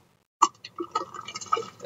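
Eggnog poured from a container, a sudden splash followed by a string of uneven drips and trickles over about a second and a half, close and fairly quiet.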